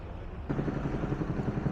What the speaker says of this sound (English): Excuse the noise from the roadworks